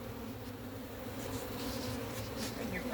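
Honey bees buzz steadily throughout a hive inspection, a dense, continuous drone close to the microphone with no talk over it.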